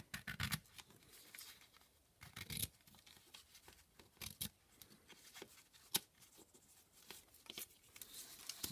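Scissors cut along a line on the paper body of a skimmer, giving close, quiet snipping and rustling in irregular bursts with pauses between cuts. No one talks.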